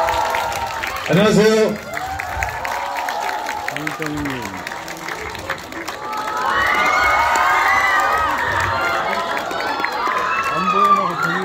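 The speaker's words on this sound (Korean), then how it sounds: "뜨거운 박수로 환영해 주십시오." A cinema crowd at a stage greeting for the film Veteran 2 at Lotte Cinema in Lotte World Mall erupts in cheers, high-pitched screams and applause, with voices speaking in between and a sustained swell of shrieking.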